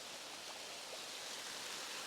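Water sprays steadily onto the side of a StoveHut 70 tent and pools on a seam, a constant even hiss of spattering water with no pauses.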